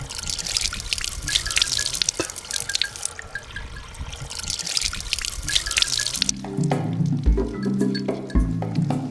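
Water trickles from a drip irrigation dripper fed by a borehole on a farm. The steady, close dribbling is joined later by a louder stretch of clinking, tonal sounds.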